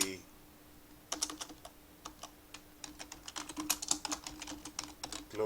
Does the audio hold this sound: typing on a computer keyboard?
yes